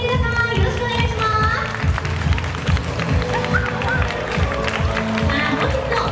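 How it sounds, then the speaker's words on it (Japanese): Audience applause welcomes players onto a talk show stage at a marine festival event: steady, dense clapping from a large crowd, loud and continuous throughout. "大きな拍手でお迎えください。"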